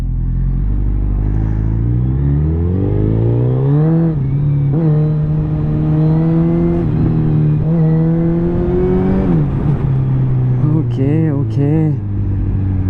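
A superbike engine revs repeatedly while being ridden, loud rising and falling whines climbing through the gears, with a rider's voice speaking briefly over it.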